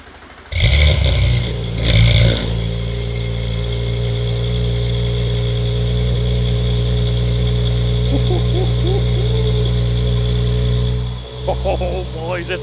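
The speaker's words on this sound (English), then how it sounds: "gonna give the first startup with the new downpipe installed" An Audi B9 S4 with a catless downpipe and Stage 2 tune fires up with a sharp, loud rev flare, then settles into a deep, steady, rumbling idle that carries on close by.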